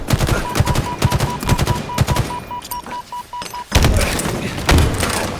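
Grenade explosion in Halo Infinite ranked multiplayer, heard among rapid bursts of gunfire and heavy thunks, loud and close, with a sharp blast breaking in after a brief lull.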